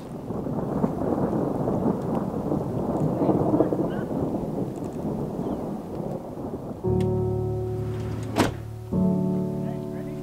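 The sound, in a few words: continuous rolling thunder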